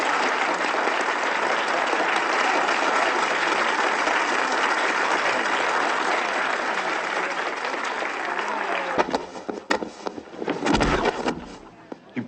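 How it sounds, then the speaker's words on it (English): A crowd applauds steadily for about nine seconds, then the clapping breaks into scattered bursts and thumps and fades out. "don't I get applause?"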